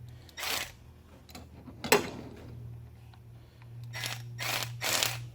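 Milwaukee 12V cordless ratchet working on the bolts of a 58-year-old water pump, several short close whirring motor bursts separated by pauses, with a sharp metallic click in the middle.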